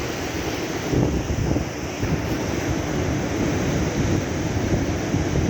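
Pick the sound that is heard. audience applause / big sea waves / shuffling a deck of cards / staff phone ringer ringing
big sea waves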